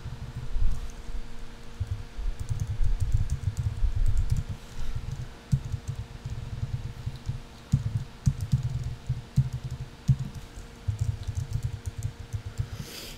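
Rapid, uneven clicking of a computer keyboard while someone types Korean text, close and fairly loud, continuing steadily with brief pauses and no talk.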